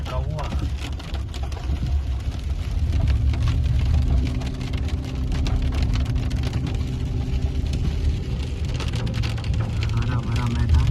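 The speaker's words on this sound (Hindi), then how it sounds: "बारिश बहुत हो रही है, सारा पानी ग्लासों पे चढ़ा हुआ" Heavy rain on a vehicle's glass windows during a drive through grassland and mountain country, a steady wash of patter under continuous road rumble, with a voice talking over it.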